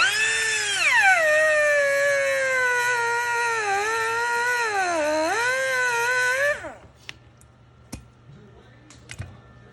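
A power tool cuts off a CV joint boot clamp with a loud, whining, tonal buzz whose pitch dips and rises for about six seconds, then cuts out, leaving a few faint clicks.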